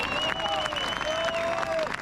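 Continuous applause from a crowd at a Paris peace march rally after a speaker is thanked. The clapping is dense and steady, with a sustained whistle or tone running through it.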